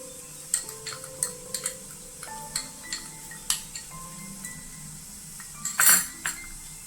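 A spoon stirs turmeric and chilli powder into small onions in a pan while a prawn roast is cooked, giving a string of sharp metallic clinks and taps spaced irregularly, with a louder scrape near the end.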